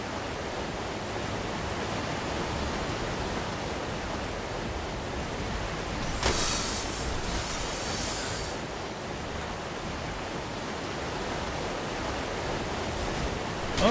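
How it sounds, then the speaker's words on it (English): Loud, continuous roar of rushing water inside a cave in the Ark survival video game, with a dense steady wash that briefly swells midway and no talking. "that water is like really loud"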